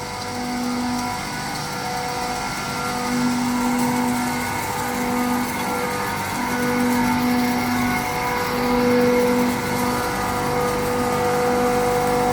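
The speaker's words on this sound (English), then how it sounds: "machine in function and the ice is coming down" Large-capacity flake ice machine running steadily, with a continuous mechanical hum and drone holding at an even level throughout, no talk.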